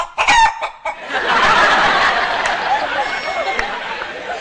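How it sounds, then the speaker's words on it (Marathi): Chickens cluck and squawk loudly close by in a burst of clucks, followed by a sustained noisy crowd-like cackling, with speech mixed in. "तुझ्या घरातल्या कोंबड्या."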